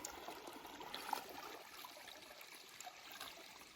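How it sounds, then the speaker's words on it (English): A stream in Finnish Lapland flows along a hiking trail, its faint, steady trickle and gurgle running evenly throughout, quiet and unbroken, with no voices. "I just like to listen to the water."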